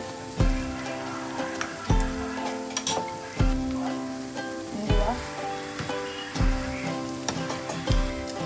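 Tempering seeds dropped into hot oil with garlic already frying, giving a steady crackling sizzle broken by clattering stirs and knocks of a utensil at regular intervals; no talking.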